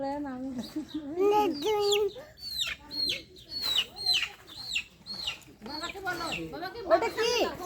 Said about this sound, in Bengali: মুরগি ধরো মুরগি কামড় দেবে